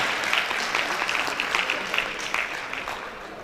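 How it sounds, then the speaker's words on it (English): Women at a professional builders' association gathering applaud, a steady wash of clapping from a sizable audience that thins gradually toward the end. "if you're a woman, you give yourself a round of applause"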